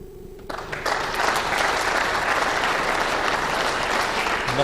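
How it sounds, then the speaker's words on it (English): Spectators at a men's squash quarter-final burst into applause after a rally, the clapping rising quickly from quiet and holding as a dense, steady wash of many hands. "Applause."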